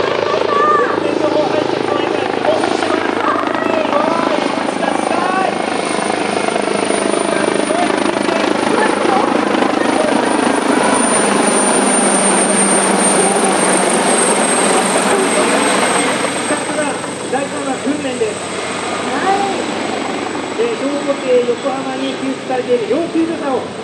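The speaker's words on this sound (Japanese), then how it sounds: "要救助者を迅速に医療機関に搬送するためヘリコプターによるこの後救助活動が行われます" A large Yokohama Fire Bureau rescue helicopter hovers over Yokohama harbor during a water rescue drill at the port opening festival, its rotor and engine roar loud and steady throughout, with a voice audible beneath it.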